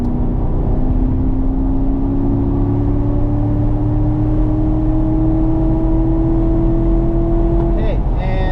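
Car accelerating out of a corner on the Burt Brothers Motorpark East race track, engine note climbing steadily in pitch for several seconds, loud and continuous, ending with a quick drop as the driver lifts.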